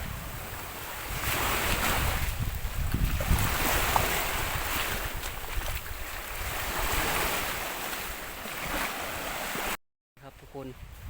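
Sea waves and surf wash steadily onto an island beach, a loud continuous roar with wind buffeting the microphone, cutting out briefly near the end.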